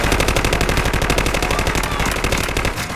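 Rapid automatic gunfire in the shooter video game Delta Force, a loud continuous burst of closely spaced shots lasting about three seconds before tapering off, with no talking.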